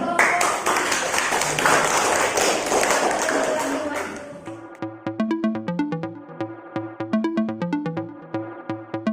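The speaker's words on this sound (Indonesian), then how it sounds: "Tepuk tangan untuk kelompok." A classroom claps for a student group, a dense burst of applause that fades after a few seconds into scattered rhythmic clapping and tapping.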